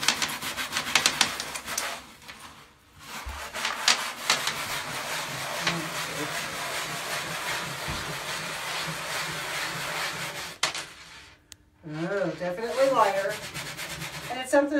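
Basic H Squared cleaner being rubbed into a heavily soiled shower surface, a steady scrubbing rasp with short pauses and a brief break near the end.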